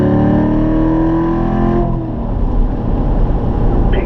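A Corvette on a race track at full throttle, its engine note climbing loud and close, then dropping with a gear change before the roar pulls hard again, with no talking.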